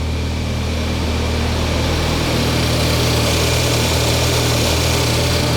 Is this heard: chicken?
no